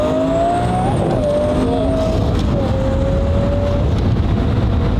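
A twin-turbo Lamborghini Murcielago SV accelerates hard through the gears, its loud engine roar rising in pitch with brief dips at the shifts, heard close and steady from inside the car with no talking.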